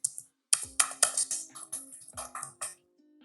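Close, crisp keystrokes on a computer keyboard while a header is entered in an Excel worksheet, tapping in quick uneven bursts for about two seconds with a faint tone underneath, then stopping.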